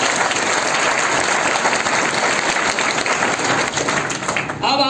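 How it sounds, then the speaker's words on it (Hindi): Loud, dense applause from an audience at a health awareness and business program in Jaora, sustained for several seconds before a voice begins at the very end. "सबसे पहले अपने महागुरु जी के लिए जोरदार तालियां दोस्तों"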